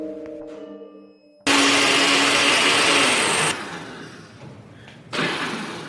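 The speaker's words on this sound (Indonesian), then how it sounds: "Dan blender itu tiba-tiba hidup sendiri." A kitchen blender suddenly roars on after a quiet musical tone, a loud close whirring motor that drops to a lower grind, then surges again near the end.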